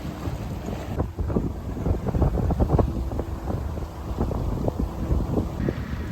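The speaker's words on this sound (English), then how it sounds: "Boat's doing about 6 knots. Got the main up on reef 2 and the stay sail up." A sailboat making about six knots under a main reefed to the second reef and a staysail, with wind buffeting the microphone, hull rumble and waves slapping close by.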